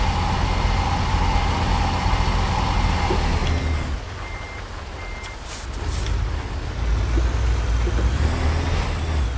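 A truck in a video game, its engine a steady low drone heard alone, joined by repeated high reversing beeps and a brief dip in loudness midway.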